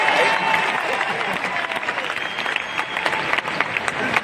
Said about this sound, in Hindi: अरे ताली तो बजा दो